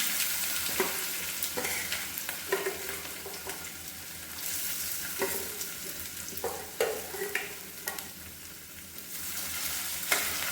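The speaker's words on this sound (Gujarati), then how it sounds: "ત્યારબાદ આપણે તેમાં ઝીણા સમારેલા બટાકા નાખીશું।" Finely chopped potatoes sautéing in a pan for seven-grain khichdo, a soft, fairly quiet sizzle broken by intermittent clinks and scrapes of stirring.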